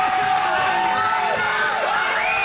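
Wrestling arena crowd cheering and whooping throughout, a dense steady roar with scattered shouts and rising yells over a match in progress.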